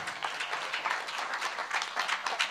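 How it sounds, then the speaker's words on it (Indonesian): Audience applause closing an evening talk event, a steady wash of many hands clapping at moderate level, continuous and fairly even across the whole stretch with no voices standing out. "Kita tutup acara malam hari ini dengan tepuk tangan yang meriah dari para hadirin."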